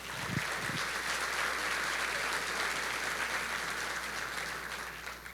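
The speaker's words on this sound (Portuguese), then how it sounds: "Será que você pode dar um aplauso ao Senhor?" A church congregation applauds during a Sunday morning service, a steady, dense wash of clapping that holds at full strength for several seconds and eases slightly toward the end.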